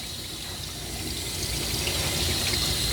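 Water from a tap or sprayer runs continuously, hissing and splashing during the rinse of a Coton de Tulear dog at a grooming session; the flow is steady and fairly loud throughout, with no talking.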